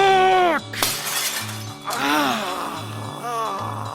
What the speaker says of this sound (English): that's what happens when you punch a mirror